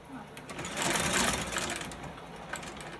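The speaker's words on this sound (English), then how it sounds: "he's going to let me stitch on his curved needle" Aquilim 315 curved-needle sewing machine stitching rubber for boot making, a close mechanical whir that rises, holds steadily for a couple of seconds, then eases off, with people talking around it.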